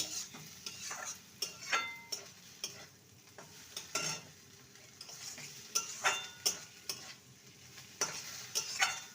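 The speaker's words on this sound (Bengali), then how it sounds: "সমস্ত কিছু মিশিয়ে নেব আর দু মিনিট নেড়ে নিলেই ফুলকপির ভর্তা একদম রেডি" A spoon scrapes and stirs cauliflower bharta in a pan, irregular clinking strokes against metal over a faint low sizzle, close by and moderately quiet, with no voices.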